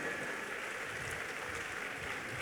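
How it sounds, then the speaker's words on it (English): Audience applause at a paper session on sub-national revenue generation, honouring the lead presenter; a steady, faint wash of many hands clapping, fairly distant, with no voices over it. "Please, another round of applause for our lead presenter."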